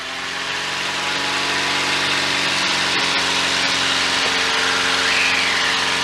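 Engine of a Velocity SUV aircraft running up to takeoff power, a loud, steady, dense roar with a high whine that holds and builds slightly across the whole stretch, heard close from inside the cockpit.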